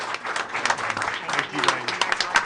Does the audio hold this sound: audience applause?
yes